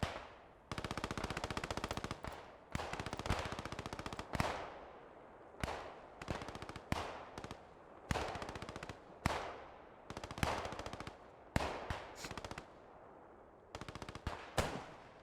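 Machine gun firing tracer rounds in Post Scriptum, repeated long and short bursts of rapid automatic fire separated by brief pauses, sharp and fairly close, with no voices over it.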